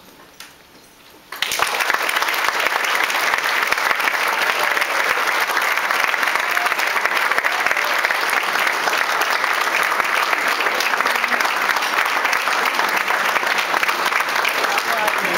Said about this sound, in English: Please give Lieutenant Commander Roundtree and the family a round of applause.